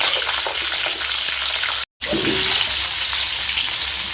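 Panch phoron spices with green chillies sizzle in hot oil in a pan for a Bengali vegetable dish, a loud continuous frying hiss close up, broken by one brief moment of silence.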